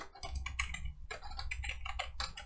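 Keys clack on a computer keyboard as a firewall command is typed, a quick uneven run of close, crisp taps with short pauses between bursts.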